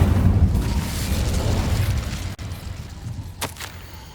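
Incendio fire spell cast in Hogwarts Legacy, a roaring burst of flame that rumbles and fades over several seconds, followed by a sharp short crack and a smaller pop.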